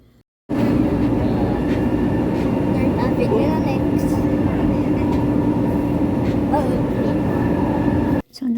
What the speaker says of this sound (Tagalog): Inside the train.